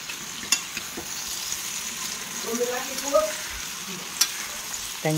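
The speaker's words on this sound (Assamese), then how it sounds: "গৰম তেলত অকণমান দি দিছোঁ" Steady hissing sizzle of small tomatoes frying in hot oil, with a few sharp clicks and a faint voice-like tone partway through.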